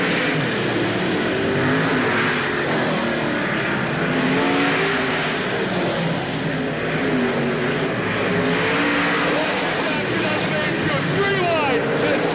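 World of Outlaws late model race cars roar around the Hales Corners track in 1989, a steady, loud wall of engine drone with shifting revs as the pack races, while a commentator talks over it.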